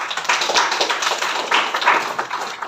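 An audience at a property business presentation claps in a brisk, continuous burst of close, crisp handclaps lasting a few seconds.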